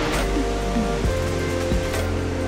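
Waterfalls in Mostar, Bosnia and Herzegovina, pour with a steady, dense roar of rushing water, close and continuous with no talk.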